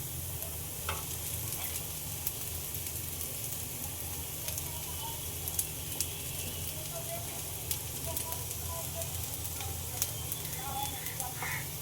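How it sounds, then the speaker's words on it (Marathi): Chopped vegetables stir-fried in a pan with browned onion and green chilli, a continuous close sizzle with scattered crackles and scraping stirs, over a low steady hum. "आता आपण ह्यात कापलेली ही भाजी टाकून घेऊया"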